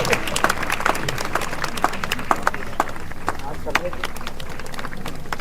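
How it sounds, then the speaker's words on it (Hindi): Loud, uneven clapping from an audience at a Hindi-language gathering, with sharp individual claps standing out over a busy crowd wash and a voice talking over it. "आप तालियां जोर से बजा सकते हैं"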